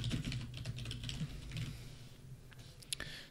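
Quick keystrokes on a computer keyboard entering a yarn install command in a terminal, a close, fast run of light clicks with a few louder taps near the end, no speech.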